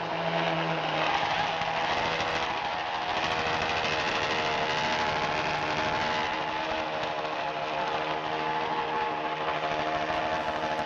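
An expensive sports car engine in Dubai roars loudly and steadily for about eleven seconds, a dense, buzzing, close-up drone with no pauses.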